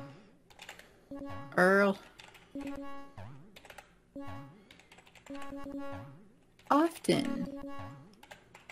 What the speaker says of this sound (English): when I'm typing actual words, it's not that bad